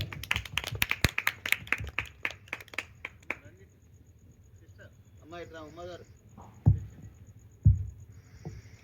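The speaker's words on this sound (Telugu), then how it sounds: "చప్పట్లు కొడదాం గట్టిగా" A crowd at a Christian worship gathering claps in a quick, uneven burst for about three seconds, then falls quiet while a faint voice carries on in the background.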